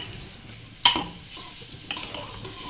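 Rice gets stirred into masala in a pot for tahri: a sharp metal clank opens into soft scraping and a faint sizzle, followed by a few more spoon scrapes, close and quiet with no speech.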